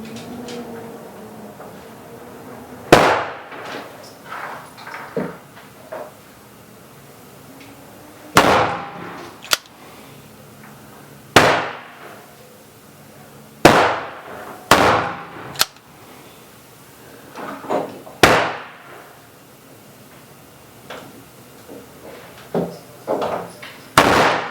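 Gunshots from reloaded rifle ammunition on an outdoor range, about seven sharp loud cracks spaced a few seconds apart, with faint rustling and handling noises between them.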